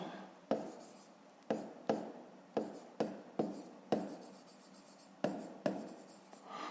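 Pen strokes on paper while numbers are written out for a school math problem, a series of about ten sharp scratchy taps and short scribbles in an uneven rhythm, close and quiet, with no talking.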